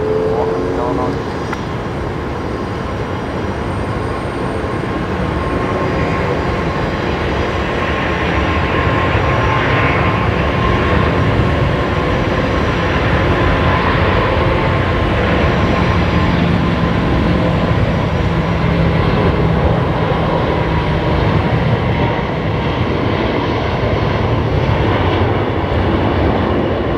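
Airliner landing at Brisbane Airport, its engine roar loud and steady for the whole stretch beneath broadband rumble, with people talking over it.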